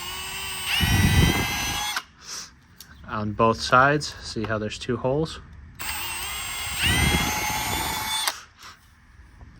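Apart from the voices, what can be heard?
drilling out plastic bracket with drill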